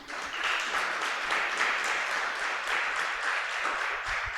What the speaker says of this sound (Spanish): Den un aplauso lindo al Señor.